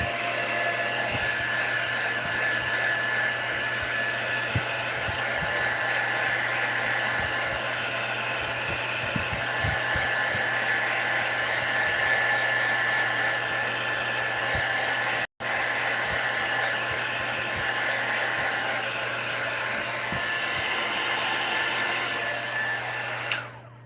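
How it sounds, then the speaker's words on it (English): A heat gun, or embossing tool, blows steadily on a glitter-coated tumbler, a constant loud whooshing drone that runs without a break, apart from one very short cut-out. "I'm just going to hit it with the heat gun or embossing tool"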